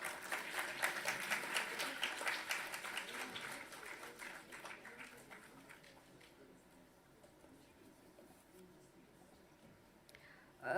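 An audience at a science awards function claps in a dense round of applause that starts strong, then thins and fades over several seconds before a brief noise at the end.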